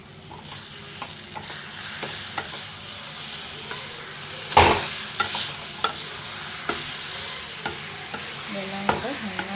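A spoon stirs cashews and a snack mixture frying in a pan, with a soft continuous sizzle under repeated scrapes and taps, one louder clatter midway, close and fairly quiet.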